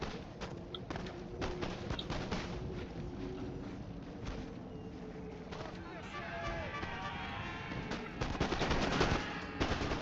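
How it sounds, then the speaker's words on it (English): Dense gunfire from a strategy video game, with rapid machine-gun rattles and scattered shots kept up under someone talking over them, growing louder toward the end. "Open fire, open fire."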